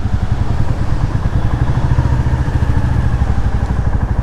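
A Royal Enfield Classic 350 motorcycle engine runs steadily close by, giving a continuous low, rhythmic thumping throb with no gaps and no talk over it.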